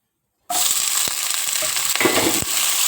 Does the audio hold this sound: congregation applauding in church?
no